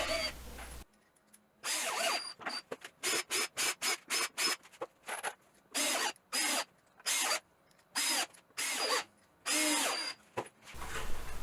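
A power drill drives 1.5 inch deck screws into a wine barrel side table in a series of short, sharp whirring bursts, some quick and clipped, others longer, separated by brief pauses.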